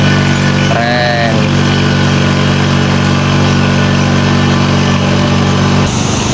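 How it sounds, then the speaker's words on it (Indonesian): A rice planting machine's engine runs steadily and loud in a paddy field in rural Japan, a constant droning hum with a brief whistling squeal early on and a shift in tone near the end. "Tapi ada mesinnya nih, ada mesin nanam padinya."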